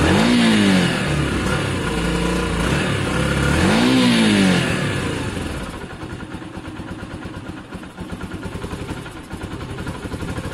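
A Yamaha XJ600 motorcycle engine revs while warming up, swelling in two loud throttle blips near the start, then settling into a rough, fluttery idle close by.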